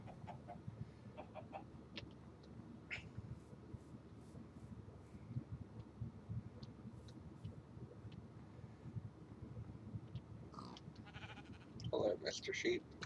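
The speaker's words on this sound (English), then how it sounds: "There's a sheep." Sheep bleating in a Minecraft game, short bleats rising near the end of a stretch dominated by continuous talking and background game noise.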